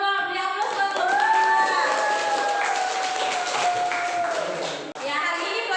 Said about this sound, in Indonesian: Beri aplaus buat kelompok